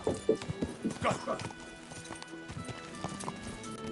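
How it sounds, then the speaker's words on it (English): Horse hooves clip-clop in the medieval video game Kingdom Come: Deliverance II, a brisk run of loud, close hoofbeats that fades out, with a whinny and a voice shouting over the start. "Your horse nearly trampled me."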